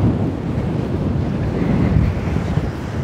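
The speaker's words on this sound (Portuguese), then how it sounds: "Aumentou o vento. Quando a gente chegou, tava quase nada de vento. Agora já tá bem mais forte." Strong wind buffets the microphone on the Pacific seashore in Peru, a steady broadband roar mixed with surf that holds loud and constant throughout, with no one speaking.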